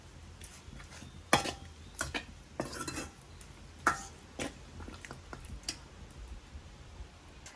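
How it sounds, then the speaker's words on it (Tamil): Chicken kurma curry cooking in a pot, Kilinochchi style: close clinks and scrapes of a utensil against the pot as it is stirred, with a faint bubbling simmer underneath. "பார்த்தீங்களா நல்லா கொதிச்சு கொண்டு வருது"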